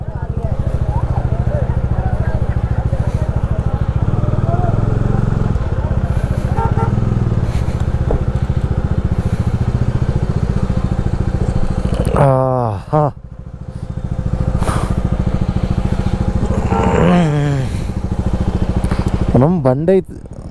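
A motorcycle engine idles and runs steadily up close after a long ride to Gangotri from Khammam, with a brief dip in the middle, while people talk over it.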